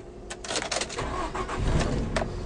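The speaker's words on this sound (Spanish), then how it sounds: "El vehículo enciende correctamente." A 2005 Nissan X-Trail SLX with automatic transmission cranks and starts, a close, steady engine rumble settling in after a few sharp clicks and whirs from the starter.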